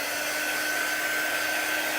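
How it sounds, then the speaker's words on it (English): A hair dryer blows steadily on a silk screen coated with chalk paste, a close, continuous whooshing hum with a faint tonal whine throughout. "So I'm just going to kind of hit this with a dryer real quick."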